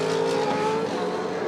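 A V8 Supercar race car with a fractured exhaust header roars steadily at high revs, a loud, raspy engine drone filling the whole moment without any voices.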